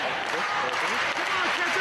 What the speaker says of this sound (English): Crowd encouraging Kenta to work his way to the ropes